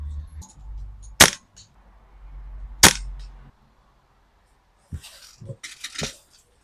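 Air rifle shots fired at a target at 50 yards while zeroing a Zulu ballistic calculator: two sharp, close cracks about a second and a half apart over faint background hum, then a few softer clicks and handling noises.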